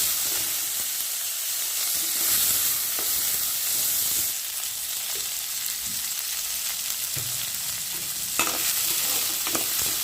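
Garlic cloves, curry leaves and tomato frying in a pan, a continuous loud sizzle with intermittent stirring scrapes and brief clinks, close up and with no voices.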